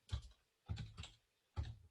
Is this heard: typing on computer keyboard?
yes